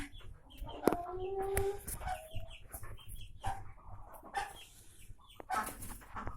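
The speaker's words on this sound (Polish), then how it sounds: "Tu kura." A hen in a coop gives short, soft clucks and a few brief squawks, sporadic and fairly close amid quiet rustling.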